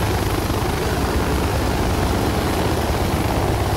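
A loud, steady helicopter rotor in the video game Project Reality thrums continuously with a dense engine roar, close and unbroken throughout.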